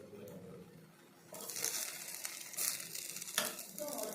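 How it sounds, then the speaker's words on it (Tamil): Thuvaiyal omelette batter poured into a pan frying on low heat, starting quiet and then rising into a steady close sizzle with light scraping and stirring knocks. "நம்ம கலக்கி வச்ச ஆம்லெட்டை ஊற்றிக்கலாம். துவையல் ஆம்லெட்டை சிம்மிலே தான் இருக்கணும்."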